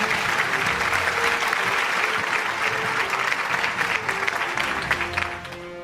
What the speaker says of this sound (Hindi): आपकी और भरपूर तालियां होनी चाहिए खातिन और हज़रात लकी ड्रॉ के लिए